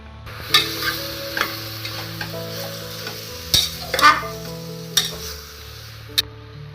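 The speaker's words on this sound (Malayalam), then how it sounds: "ഒരു 2 മിനിറ്റ് നമുക്ക് നന്നായിട്ടൊന്ന് ഇളക്കി കൊടുക്കാം." Chicken pieces stirred in a pan for a Kerala-style chicken stew: repeated sharp metal spatula clanks and scrapes at an uneven rhythm over a low sizzle, close and clear, with no speech.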